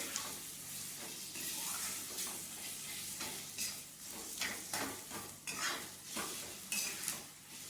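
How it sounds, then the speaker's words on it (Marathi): Raw mango slices sautéing in a pan, a constant hiss of frying under irregular scrapes and clinks of a spoon stirring against the metal, close and fairly quiet. "थोडेसे कच्ची कैरी कापून छान परतून घ्यायचं"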